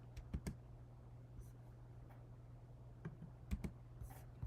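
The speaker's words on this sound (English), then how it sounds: "Sorry, guys. I'm clicking around." Quiet, close clicking at a computer during a live stream, a few sharp taps in small clusters separated by pauses, over a faint steady hum with no talking.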